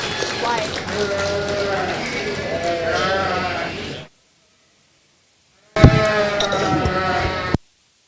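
Sheep bleat and call in a livestock show barn during ewe and lamb classes, several overlapping wavering cries filling the first four seconds, then silence, then another burst of bleating with people talking nearby.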